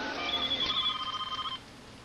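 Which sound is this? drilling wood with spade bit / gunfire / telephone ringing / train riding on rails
telephone ringing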